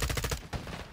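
Rapid gunfire returned from cover in a Call of Duty campaign video game: a quick stuttering burst of close, loud shots that cuts off in under half a second, followed by a single fainter report.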